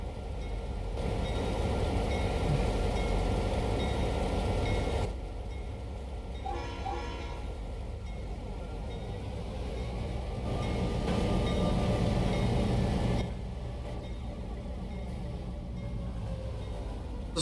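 A locomotive hauls through Coal Country in Trainz, with a continuous low engine rumble and rolling wagon noise that shifts in loudness as the train runs on, with no talk over it.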